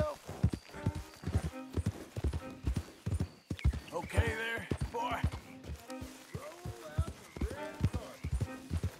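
Horse hooves in the Red Dead Redemption 2 video game beat out a steady, rapid clip-clop rhythm throughout, joined by a snorting whinny midway, while someone talks over it.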